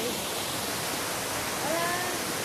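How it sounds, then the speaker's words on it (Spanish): Waterfall cascades at the El Corralito tourist site give a steady, broadband rushing roar that stays even throughout. Faint brief tones rise above the constant water noise. "miren las cascadas tan lindas"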